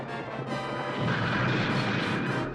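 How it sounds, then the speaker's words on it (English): Cartoon building collapsing in a long, loud, rumbling crash of falling debris that swells and holds steady for a couple of seconds, with no voices over it. "The building's coming down."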